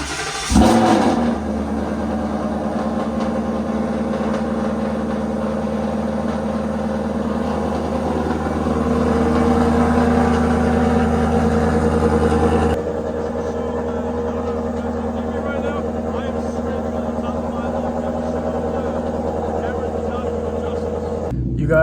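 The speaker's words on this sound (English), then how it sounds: "So this is a cold start on my stainless power long tube headers paired with 4 Performance by catback" A Ford Mustang GT with Stainless Power long-tube headers and a Borla exhaust fires up from cold and settles into a loud, rumbling high idle. The engine is close by and constant, and the tone drops partway through.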